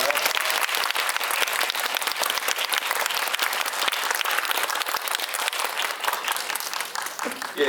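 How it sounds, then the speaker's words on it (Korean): Audience at a Korean film screening Q&A applauds the director and two actors, steady dense clapping filling the room for several seconds, loud and continuous with no gaps. "이 영화의 감독과 또 두 배우 박수 부탁드립니다"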